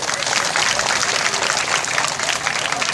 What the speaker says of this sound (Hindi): आप सभी एक बार जोर से तालियां स्वागत करें